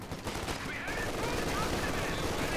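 Submachine guns rattle in rapid bursts during a Company of Heroes 2 battle, a dense, loud wash of automatic fire with scattered impacts layered over constant combat noise.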